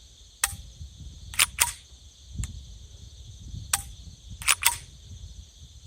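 A KelTec PMR-30 pistol gives sharp, close mechanical clicks as its trigger snaps and resets, heard as isolated single clicks and quick pairs spread over several seconds against a faint background.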